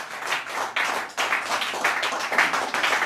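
A church congregation clapping in praise, a dense burst of applause-like claps that swells in uneven waves, moderately loud and close, with no speech over it.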